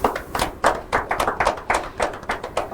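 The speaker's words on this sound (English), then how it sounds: "Yes, we can clap if we want to clap and make it loud." Audience clapping at an inter-collegiate quiz and debate competition, a few hands giving sparse, rhythmic claps in steady bursts, close and moderately loud with no talk over it.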